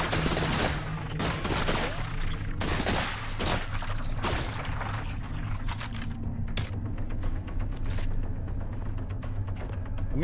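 Shotgun blasts and other gunfire in the game The Last Caretaker, with a string of loud, close reports packed into the opening seconds, then sparser sharp shots over a steady mechanical hum and rumble.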